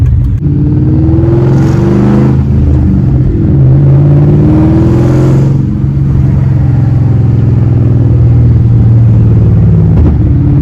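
A straight-piped Shelby Cobra engine revving hard on the move, a loud close rumbling roar that swells through two strong pulls with gear changes, then holds a steady heavy drone.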